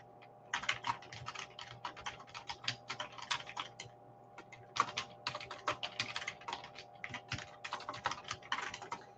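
Text being typed on a computer keyboard: quick, fairly faint clicking keystrokes in uneven bursts with short pauses, close by and without any talking.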